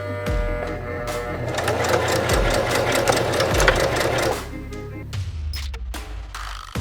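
A sewing machine stitches the edge of a tote bag with a close, steady mechanical whirring that stops partway through, followed by faint clicks and handling noises.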